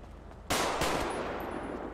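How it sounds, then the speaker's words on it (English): Gunfire erupts in the video game GTA RP, two loud, close shots in quick succession after a quiet moment, followed by a fading roar of noise. "I don't know who's shooting at me."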